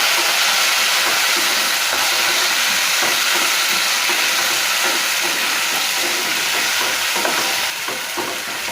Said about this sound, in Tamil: மீதி இருந்த ஒரு தக்காளியும் பொடியாக நறுக்கி வச்சுருக்கேன், அதையும் இதில் போட்டு வதக்கி விடுறேன்.